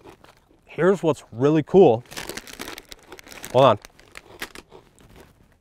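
A bag of Doritos crinkles and rustles in someone's hands outdoors in winter, loud bursts of crumpling plastic running under and after someone speaking.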